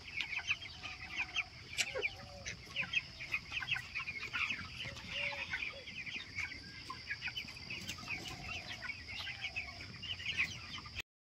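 Many chickens cluck at a poultry farm, their overlapping calls forming a steady, busy chorus that continues throughout.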